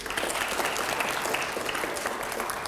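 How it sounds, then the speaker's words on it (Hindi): An audience at a televised political question show applauds, a dense, steady roar of clapping from many hands that holds evenly throughout. "अगले सवाल के लिए एक बार फिर से जोरदार तालियां हो जाएं"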